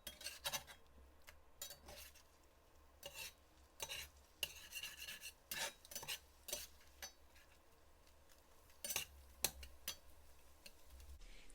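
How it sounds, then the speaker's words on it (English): A metal spatula scrapes a cast iron pan while cooking scrambled eggs, producing quiet, intermittent scrapes and clinks in irregular bursts with soft sizzling between them. "I like to use this metal spatula. It does scrape the pan"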